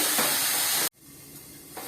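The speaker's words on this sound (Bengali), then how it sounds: "দেখো আমি ভাজছি, একটু ভাজা হবে।" Oil hisses and sizzles loudly in a pan while food fries for a prawn and snake gourd dish, cutting off abruptly and then returning as a quieter, steady sizzle.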